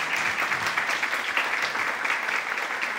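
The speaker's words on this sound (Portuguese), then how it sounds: "Então palmas para vocês" Steady audience applause at a lecture in Brazil, many hands clapping in a dense, continuous patter that holds evenly throughout.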